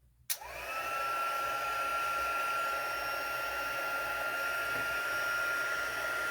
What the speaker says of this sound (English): I have got my heat tool here. I'm going to put it on our second setting